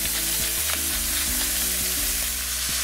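Salted roast vegetables sizzling in a pot as venison is braised, a continuous close frying hiss under steady background music.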